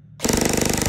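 A G&G TR16 airsoft rifle fires on full auto, close up, in one rapid, evenly spaced mechanical rattle that starts abruptly after a brief quiet moment and keeps going to the end.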